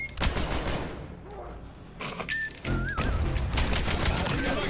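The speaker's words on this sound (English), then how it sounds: "I just killed that man all the way from Black Ops 3. The gun is balanced by a high recoil and short range." Rapid automatic gunfire from a high-recoil, short-range gun in the video game Black Ops 3, loud bursts crackling through the whole stretch with some whistling tones mixed in.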